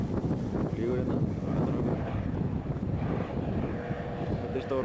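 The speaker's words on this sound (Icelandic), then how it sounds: "Þetta er stóra flugvél." Large airplane at an air show, a broad rumbling drone passing steadily with wind buffeting the microphone, moderately loud, with people talking nearby.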